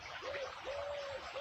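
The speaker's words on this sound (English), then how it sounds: "Pigeons." Pigeons coo softly in a lush countryside spot by a small stream, with a few drawn-out, steady hooting notes at a distance and no talk.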